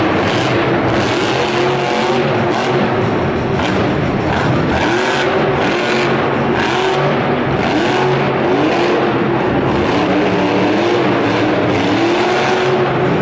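Loud monster truck engines roar and rev at a Monster Jam event in San Antonio, with continuous heavy engine noise, rising and falling surges of throttle, and tire noise in a large arena.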